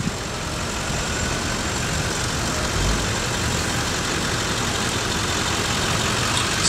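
A 2001 GMC Yukon fire command vehicle idling or rolling slowly in a parade, its engine a steady low rumble amid continuous outdoor noise, with no clear revs or horns.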